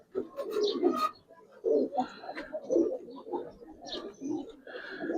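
Silver Giribaz pigeons coo in a loft, repeated low burbling coos in uneven bursts close by, with someone talking intermittently over them.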